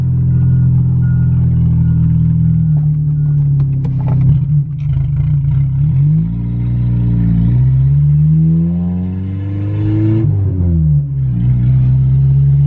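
A beater car's engine runs loud and close in a shop, its low rumble rising and falling as it revs.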